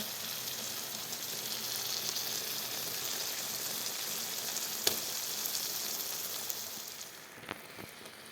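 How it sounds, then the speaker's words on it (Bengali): Mutton sizzling and frying steadily in a pan during kosha sautéing, a dense continuous crackle with a few sharp spatters near the end, no voices. "বন্ধুরা দেখো আমার মটনটা কষানো হয়ে গেলে"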